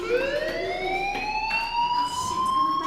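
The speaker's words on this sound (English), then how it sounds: "Hey, do you hear that fire alarm?" A school fire alarm from the video game Life is Strange wails as a rising electronic siren tone, loud and steady, sweeping upward without pause and sounding alone.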